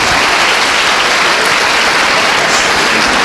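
A dense burst of loud applause from an audience at a talk, even and continuous throughout with no talking over it.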